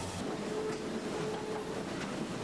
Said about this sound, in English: they use a switching engine, which is a small diesel locomotive